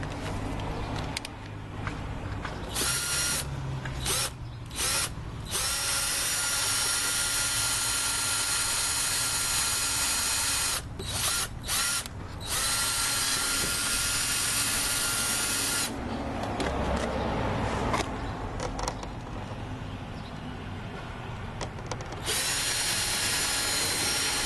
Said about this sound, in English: I drill my hole from the inside.